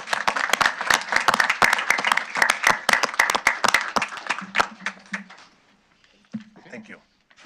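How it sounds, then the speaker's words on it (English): County board members and attendees at a meeting give a round of applause, a burst of distinct, fairly close hand claps that dies away after about five seconds, followed by brief quiet murmuring. "I'd just like this board to give your employees and all those who are volunteers for you a nice round of applause"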